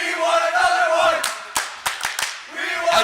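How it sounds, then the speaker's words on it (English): Crowd at a varsity hockey game between North Shore Stars and Rambam, with sharp claps and bursts of cheering. The noise rises and falls over about three seconds, and a couple of distinct loud smacks stand out. "And you hear the crowd getting into it."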